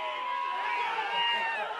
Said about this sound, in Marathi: आता उदयनराजेंच्या तिकडे जल्लोष सुरू झालेला आहे